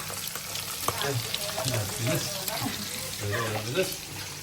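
Fish deep-frying in hot oil at home gives a steady, crackling sizzle close by, with people talking over it.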